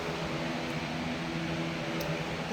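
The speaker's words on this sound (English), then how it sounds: "I've got the fan on." An electric fan runs to dry fresh paint on a vintage buffet, a steady whirring hum with a low droning tone underneath, constant and unbroken throughout.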